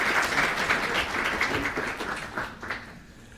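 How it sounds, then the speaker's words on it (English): An audience claps after a debate on evolution and God, steady applause from a hall crowd that holds for a few seconds and then fades out. "I think a round of applause for that."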